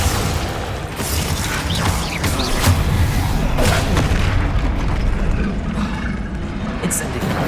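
In Hogwarts Legacy, Confringo and Bombarda spells go off as repeated booming explosions with mechanical clanks amid a dense, loud battle soundscape. A voice speaks over the blasts.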